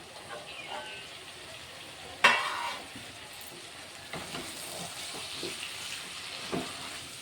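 A chili powder, tomato and green chili curry stirred in a pan, with soft frying sizzle, one sharp spoon scrape on the pan and lighter stirring knocks.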